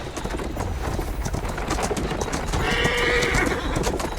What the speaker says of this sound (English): There is a good horse.